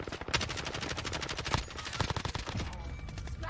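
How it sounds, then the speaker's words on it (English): Rapid bursts of automatic gunfire in the Warzone video game, sharp repeated shots fired in fast strings with a brief louder crack near the middle, heard alone over a faint background. "He was shooting the people in the other building"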